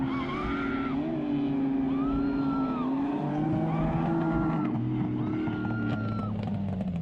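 A Mazda RX7 with a swapped 5.3 LS V8 drifting in a competition battle: a loud, sustained engine roar with revs rising and falling through the run, mixed with steady tire noise, close and continuous throughout.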